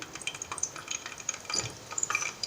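Cumin seeds fry in hot oil, a fine crackling sizzle with light spatula scrapes against the pan, steady and close, with no voices.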